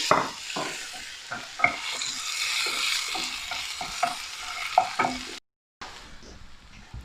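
Onion frying in a pan for an Afghan egg omelette gives a steady close sizzle, punctuated by repeated clicks and scrapes of a stirring utensil and a brief gap of silence near the end.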